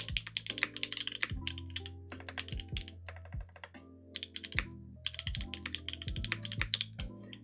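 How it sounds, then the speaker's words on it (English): Someone types slowly on a split mechanical keyboard with O-ring mounted switches, producing close, crisp clacks in uneven bursts with brief pauses, heard alone with no talking. "As you can see, I'm not a professional typist. I'm quite slow."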